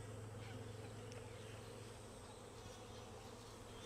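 Honey bees buzz steadily around a full brood box being moved into a new Flow Hive, with smoke used to shift them, a dense continuous hum close by that holds at an even level throughout.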